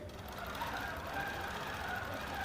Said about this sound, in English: we'll want to pull up our bobbin again and start sewing our pattern.